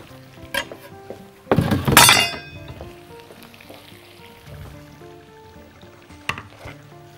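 Chicken pieces and onions are stirred in a hot pan for an oven-baked chicken dish, giving a loud burst of scraping and sizzling midway, then a steady quieter sizzle with a few utensil clinks.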